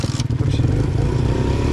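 A Romet Pony moped engine idles close by, a continuous low puttering drone with a brief clattering start and no talk over it.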